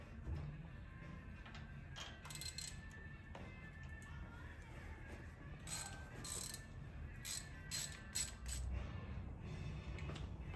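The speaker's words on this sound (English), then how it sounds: "get the spark plugs out. They're deep down in there, and it's good if you have a magnetic spark plug socket." Spark plugs being removed from a Harley-Davidson M8 engine with a magnetic spark plug socket, giving faint intermittent metallic ratcheting clicks and small clinks over a low background hum.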